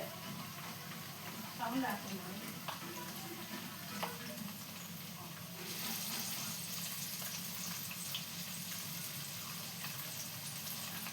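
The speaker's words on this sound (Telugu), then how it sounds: "పోపులు అన్నీ వేసా, చూస్తున్నారు కదా, అన్నీ వేసాను" Popu tempering of split husked urad dal, dried red chillies and curry leaves frying in oil, a steady moderate crackle and sizzle with small pops, while someone talks over it.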